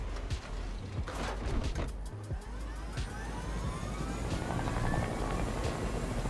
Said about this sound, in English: I'm trying to cover the helicopter.